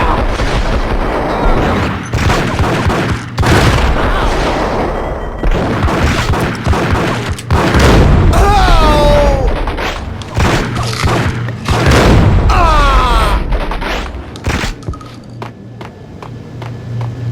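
Video game combat: dense rattling gunfire and heavy booming explosions, loud and close. Bursts pile on each other almost without pause, with a few whistling, sweeping shots between the blasts.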